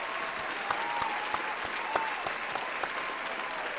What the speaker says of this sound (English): I got an audience that gives a round of applause soundbite now